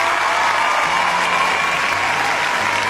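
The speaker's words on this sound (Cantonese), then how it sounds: "呢掌聲係屬於你嘅" Applause at a Hong Kong award ceremony fills the hall as an award is presented to Anita Mui: an even, continuous wash of many hands clapping, loud and sustained throughout without a break.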